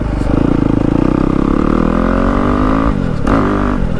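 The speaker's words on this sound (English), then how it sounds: "my bike ain't quiet anymore, so you just hear braps" A WR250F dirt bike fitted with a new YZ exhaust roars loudly up close, its engine braps pulsing steadily, then shifting pitch as the rider backs off and revs again.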